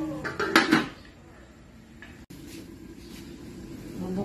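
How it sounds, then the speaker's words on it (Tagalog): A lid clanks onto a metal cooking pot of simmering fish stew, a brief cluster of close, bright metallic rattles followed by quiet kitchen background. "Tatakpan ko lang ngayon."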